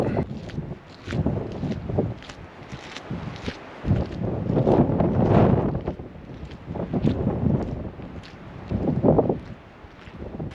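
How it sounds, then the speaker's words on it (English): Gusty wind on a Scottish mountain buffets the microphone in rising and falling surges, with faint rustling underneath and no voices. "Might be a little bit windy today, I was told."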